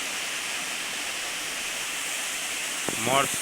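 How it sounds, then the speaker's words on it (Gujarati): A waterfall roars as a steady, full rush of falling water; near the end a brief voice cuts in. "મસ્તીનો ધોધ પડે છે. એકદમ તાજું પાણી છે."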